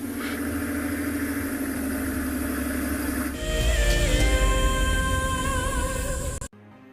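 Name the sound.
safari vehicle engine driving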